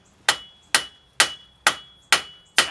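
A sledgehammer taps a tie rod end on a 2003 Chevy Malibu, six sharp metallic strikes at a steady, even rhythm, close and loud, each one ringing briefly before the next.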